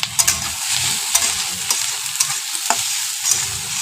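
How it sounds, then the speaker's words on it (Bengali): Onion and tomato frying in a pan with turmeric and salt, a close, loud continuous sizzle broken by repeated scraping stirs and light clicks of a spatula, with no talking. "আবার একটু ভাজা ভাজা করে নেব।"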